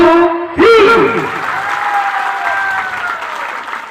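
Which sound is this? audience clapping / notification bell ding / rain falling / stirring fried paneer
audience clapping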